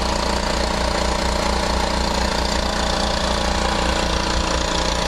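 A generator engine running during a home power outage, with a loud, continuous, close-up rumbling drone and rapid knocking pulses, steady throughout with no talk.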